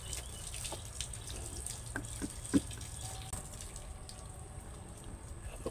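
Tap water runs steadily over fish being rinsed in a sink, a continuous close gush with a few brief splashes and clinks from handling.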